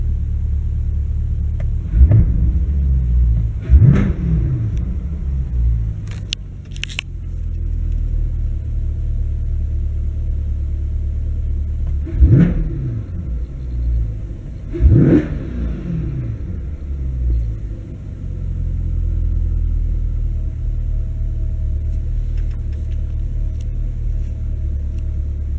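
A C8 Corvette with the stock NPP exhaust in Z mode, valves open, heard from inside with the windows up: a steady low engine rumble broken by three or four sharp revving surges that rise and fall.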